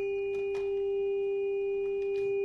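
A recorded tuning fork rings out as a pure, steady, sustained tone with faint overtones. A few soft clicks and rustles sound faintly behind it, and no one speaks.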